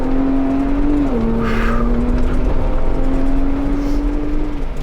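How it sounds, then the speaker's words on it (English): A Ford Bronco Raptor driven hard and fast off-road, its engine a loud, steady drone with a sustained tone that dips briefly and then holds, heard close up and continuous with no talk. "the Bronco Raptor is tons of fun to drive at stupid fast speeds."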